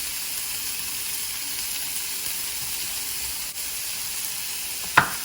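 Onions fry in a pan for mini aloo samosas, giving a steady, even sizzle throughout, with one brief clatter near the end.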